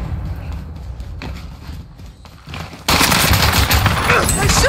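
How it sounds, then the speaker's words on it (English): Enemy gunfire in the game Call of Duty Warzone: scattered shots and rattling at first, then a sudden loud, dense burst of firing that continues to the end. "They're shooting at me!"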